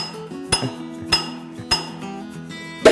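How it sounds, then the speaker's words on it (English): A ball peen hammer strikes a steel wedge into a wooden handle in a blacksmith's shop, four sharp ringing metallic blows at a steady, unhurried pace, close and loud with no talk. "using a chisel, I'll drive this steel wedge further into the wood. Using a ball peen hammer"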